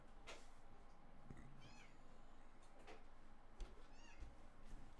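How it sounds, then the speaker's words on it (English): A cat meowing, a couple of faint, short, rising-and-falling meows set low against a quiet room-tone background, with no clear talking. "Okay, cat's here."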